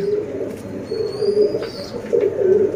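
Domestic pigeons coo repeatedly in a loft of paired and flying birds, low throaty calls close by, with a few faint chirps mixed in.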